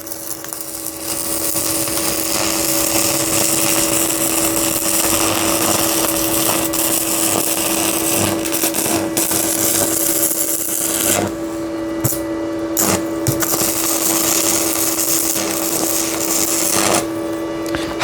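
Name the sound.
arc welding with 3 mm rod, 250 amp welding machine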